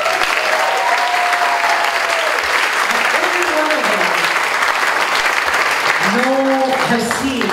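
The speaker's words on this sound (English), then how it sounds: "give them a nice round of applause" Sustained applause from an audience at a Kauaʻi hula performance, greeting a keiki children's hula class before they begin, with a voice rising over the clapping now and then.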